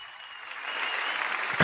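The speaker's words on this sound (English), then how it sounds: "Y'all give her a round of applause, guys." A studio audience claps for a guest on a talk show, a brief burst of applause that swells from light to fuller clapping at close range, with no talk over it.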